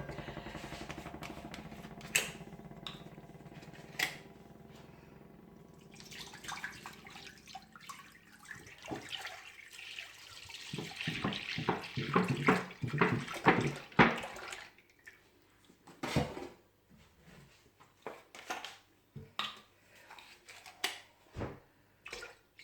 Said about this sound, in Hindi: तो सबसे पहले इसमें मैं दूध ऐड करूँगी।